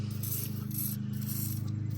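An aerosol can of PB Blaster rust protection spray hisses in short bursts, a few quick sprays close up on snow blower metal, with brief pauses between them.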